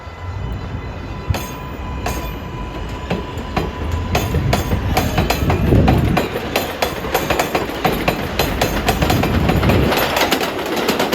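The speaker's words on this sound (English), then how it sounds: "as another eastbound express approaches" An eastbound express on the New York City 7 subway line approaches on an elevated track, a loud rumble that builds and holds with rhythmic wheel clatter, clicking rail joints and a faint high squeal, with no talking.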